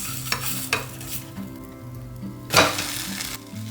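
A potato and egg omelette sizzles steadily in a pan, with a few louder bursts of frying and stirring scrapes partway through; no one speaks.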